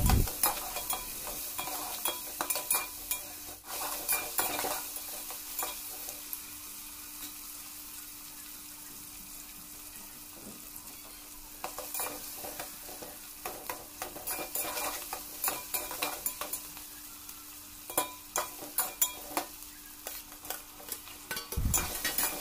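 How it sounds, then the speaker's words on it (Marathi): Onion sautéed in oil in a pot for chicken biryani gives a soft sizzle broken by repeated spoon scrapes and stirring clatter, with quieter stretches between bursts of stirring and no talk. "पहिलं पातेल्यामध्ये तेल टाकून कांदा चांगला परतून घेतला"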